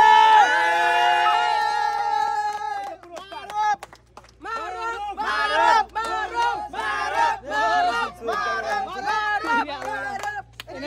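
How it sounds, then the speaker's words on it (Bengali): Village boys at a game of riding bicycles across water shout and cheer loudly for the day's winner. Their voices come in excited bursts, close by, with no clapping evident. "আজকের বিজয়ী মারুফের জন্য হাততালি"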